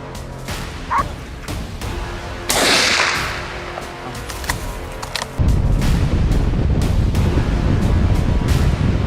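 Dogs bark during a wild boar hunt on a mountainside, sharp yaps coming in bursts over a rough, noisy outdoor background that turns into a loud, steady rumble partway through.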